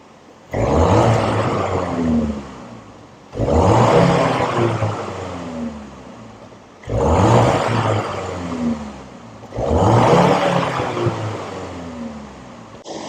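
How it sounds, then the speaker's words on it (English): A 2024 BMW X2 M35i, warmed up and parked, revved four times in a row: each blip rises sharply to a loud roar, holds briefly, then falls back to idle before the next, recorded close with no talking. "And we'll do a few revs here."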